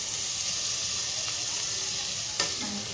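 Chopped onion sizzling in hot oil in a home kitchen pan, a steady, close frying hiss throughout with faint stirring clicks and a brief scrape near the end, no talking.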